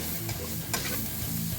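Sausage and flour stirred and browning in a hot pan, with a steady close sizzle and a few scraping stirs across a short stretch and no voices.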